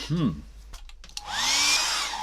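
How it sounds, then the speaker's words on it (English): A brief squeak and a few clicks, then a hair dryer switches on and blows with a loud, steady whooshing roar. "I do think I need to get the hairdryer out"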